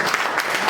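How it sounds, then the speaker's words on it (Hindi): An audience at a leaders' team meeting gives a short burst of loud, dense applause for their women colleagues. The clapping is continuous and close for under a second. "महिला आप लोग महिला साथी के लिए एक बार जोरदार तालियां।"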